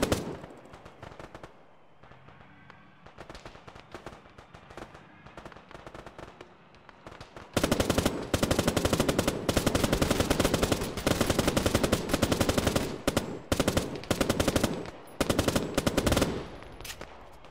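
Gunfire in the military game Arma during a ShackTac session at dusk: scattered distant shots and bursts at first, then dense, loud sustained automatic fire and rapid volleys for the second half, without speech.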